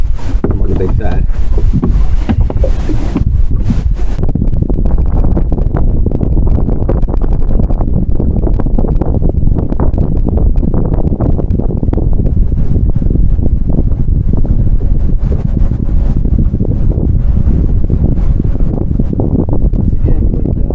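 Strong wind buffets a fishing boat on open water, roaring loudly and continuously across the microphone with gusty rumbles, while water slaps nearby.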